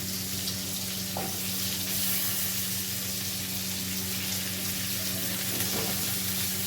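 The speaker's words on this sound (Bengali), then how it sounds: "পেঁয়াজটা ভেজে নেবো এবারে একসঙ্গেই দিয়ে দেবো পেঁয়াজটা গোটা পেঁয়াজ গোটা বেগুনটাও দিয়ে দেবো" Whole onion and whole eggplant fry in a pan with a steady, loud sizzle, with a few faint clinks over the continuous crackle and no talk.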